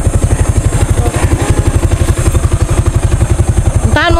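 A motorcycle engine runs close by at a steady, loud pulsing idle, then revs briefly near the end.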